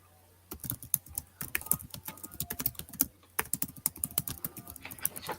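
Rapid, uneven clicking of a computer keyboard being typed on up close, bursts of keystrokes in a steady flurry after a brief quiet start, with no talking.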